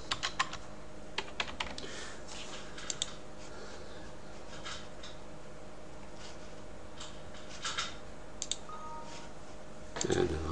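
Computer keyboard typing in short irregular bursts of clicks, fairly faint and close, with a louder clatter of keystrokes at the very end.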